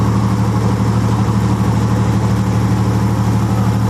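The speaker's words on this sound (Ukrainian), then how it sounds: "двигун треба добре прогріти." A military tank's engine idles steadily while warming up before a combat task, a loud, constant low rumble with a deep throbbing pulse that holds unchanged throughout, with no voices.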